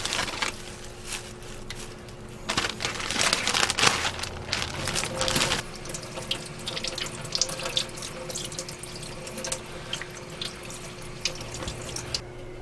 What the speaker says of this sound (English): the last thing I have to do is to peel and wash these shrimp.